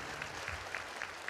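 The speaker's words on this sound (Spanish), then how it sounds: "Ese aplauso fuerte a Jesús." Congregation applauding during a Catholic healing Mass, a faint, distant wash of clapping from many hands, fairly steady and quiet throughout the short stretch.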